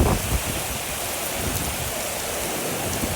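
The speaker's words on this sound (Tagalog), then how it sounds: "Mga idol, ulan na." Rain falls steadily in a continuous hiss of drops on surfaces, even in level, with no voices and no other sounds.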